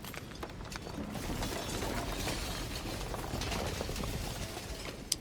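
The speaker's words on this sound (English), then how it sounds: "And then the shattering." A shattering effect in the game Slay the Princess: a sustained, dense crackling and grinding, like breaking glass and churning mechanisms, fills the whole stretch at steady loudness, ending with a sharp click.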